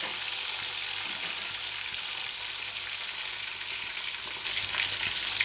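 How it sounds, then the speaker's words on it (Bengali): Stingray fish pieces fry in oil, a dense continuous sizzle that stays close and fairly loud for the whole clip and swells slightly toward the end. "এই মাছের তেল গলে, আবার একটু ভাজা হবে।"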